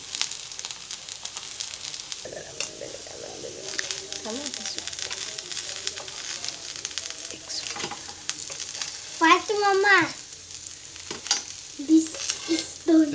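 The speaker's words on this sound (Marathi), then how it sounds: "सेट थोडी फ्राय झालेली आहे दुसरी सेट फ्राय होते आहे" Sprouted moong cutlets frying in a pan, a continuous sizzle with occasional scraping and tapping, voices talking over the frying in places.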